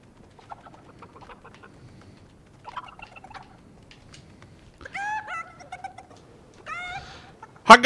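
A chicken in a video game gives a few short, bright calls that rise in pitch, with quiet scattered noises before them and a sharp burst at the end.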